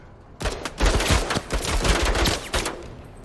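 Chain gun truck firing in MENACE, a rapid, loud burst of gunfire that starts suddenly and rattles on for nearly three seconds, with separate impacts heard through the stream.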